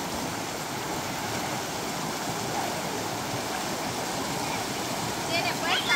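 A swollen river, risen close to a house, rushes in a steady, continuous roar of flowing water at moderate distance, with faint voices mixed in.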